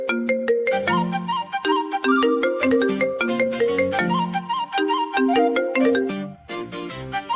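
A phone ringtone plays on a call being placed again: a loud, bright melodic tune of quick repeated notes that runs continuously and then cycles back to the start, with no talk over it.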